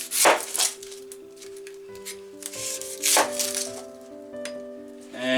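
An onion is sliced on a cutting board, with a few knife strokes and board knocks over a continuous tonal hum in the background.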